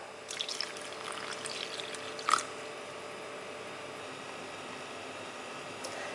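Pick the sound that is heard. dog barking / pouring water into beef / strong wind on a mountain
pouring water into beef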